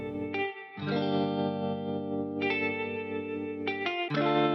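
Sustained synth chords with a wobbling, wavering pitch and a dulled, muffled tone from the Yum Audio Pitch Dropout 2 lofi effect, changing chords a few times; no voices.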